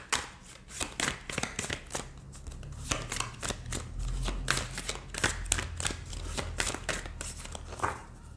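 An oracle card deck being shuffled by hand: a dense run of quick papery slaps and riffling clicks, close and steady for several seconds, with no talking.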